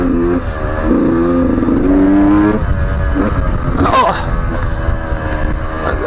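A 2019 Beta 125 RR Race Edition motorcycle engine revs up with a rising, buzzing pitch for a couple of seconds. It then drops into a rougher, noisier running sound, loud and close throughout.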